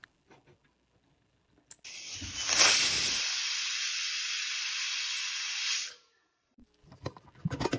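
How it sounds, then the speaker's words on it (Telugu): Pressure cooker venting steam while cooking a potato and meal maker curry: one loud, sustained hiss of about four seconds that starts and stops abruptly, with quiet moments before and after. "కుక్కర్ మూత పెట్టి 2 విజిల్స్ వచ్చేదాకా"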